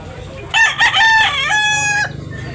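A rooster at a market in Tabunok, Talisay, Cebu, lets out one loud, close crow lasting about a second and a half, rising and then holding a strained, drawn-out note over a low background hum.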